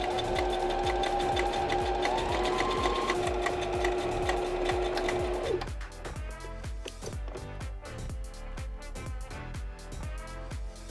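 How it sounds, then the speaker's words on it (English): Sewing machine running a zigzag stitch on a fabric face mask, with fast rhythmic mechanical ticking and a motor whine that stops partway, leaving lighter stitching clatter, close up and with no talking. "So a 1/2 inch seam allowance on a zigzag stitch."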